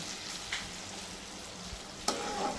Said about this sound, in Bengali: মশলাটা একটু ভেজে নিতে হবে ভালো করে